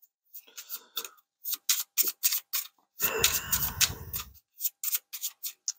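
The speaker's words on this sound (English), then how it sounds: "let's grab the tailed cards, and we are going to shuffle these up" A deck of tailed cards for the Skies Above Britain board game being shuffled by hand: a run of quick riffling flicks, then a denser fluttering burst and more crisp taps, close and fairly quiet.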